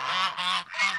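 Ducks outdoors in snow give three loud, close honking calls in quick succession with short gaps between them, and no voices can be heard.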